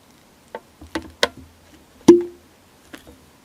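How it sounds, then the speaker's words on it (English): Cork working in the neck of a mead bottle gives a few small squeaky creaks and ticks, then one sharper hollow pop, close and quiet in an otherwise silent room. "This mead's in a cork-topped bottle. I just love the sound it makes."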